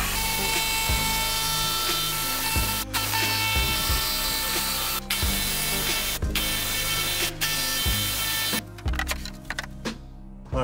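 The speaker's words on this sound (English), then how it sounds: "drill some pilot holes in each one of these corners" Electric drill boring pilot holes in wood in repeated bursts with short pauses between, close and loud, the motor grinding steadily through each hole.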